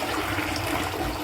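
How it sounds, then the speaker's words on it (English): A DeerValley one-piece toilet runs its long flush, a loud steady rush of water that fills the whole moment without pause. "We'll let it fill back up and then I'll do the long flush."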